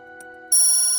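A telephone rings loud and close, its bright electronic ringtone cutting in abruptly halfway through a quiet stretch of steady background hum, with no voices.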